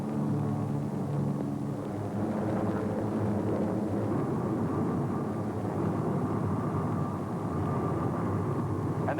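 A Ford airplane taxis across a concrete apron past rows of newly built aircraft, its engines giving a steady, loud low rumble and drone that stays even throughout, with no voices heard.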